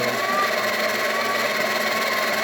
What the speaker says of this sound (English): Brand new grinder. As you can see, it's cranking up very well.